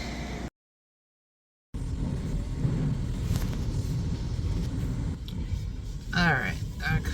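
An automatic car wash runs steadily at a car after an oil change, giving a continuous low rumble and spraying wash, with splashes and hissing bursts near the end. Someone speaks briefly over it.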